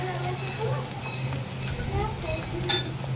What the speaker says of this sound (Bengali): জিরা বাটা দিয়ে দিলাম